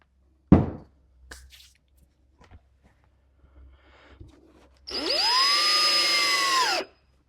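A power drill drives a coated screw into a wooden 10-frame Langstroth beehive, a close, loud whine lasting about two seconds that rises and settles, preceded by a sharp knock and a few faint handling taps.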